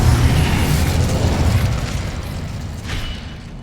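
In Hogwarts Legacy, an Incendio fire spell bursts into a loud, rumbling roar that fades out over a few seconds.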